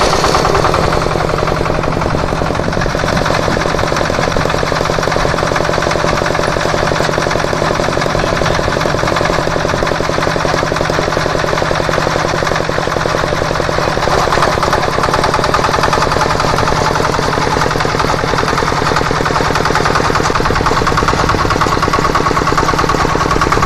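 Walk-behind tractor engine fitted with a rotary tiller, running steadily with a loud, continuous chugging drone close by, rough and rattly throughout with no talk.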